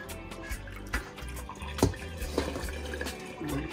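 Water splashes and trickles intermittently while snapper or parrot fish is rinsed in a kitchen, with scattered drips and a few sharper splashes, fairly quiet and close.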